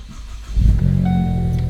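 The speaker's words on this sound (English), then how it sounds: "we will start the car and hope for good things." A Ford Focus ST engine starting: a brief starter crank, then the engine catches and settles into a loud, steady idle close by, with no talking.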